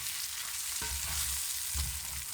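Cornflour-coated chicken fries in a fry pan for a velvet chicken salad, with a steady hissing sizzle broken by two soft thuds of pieces being stirred or moved; nobody talks.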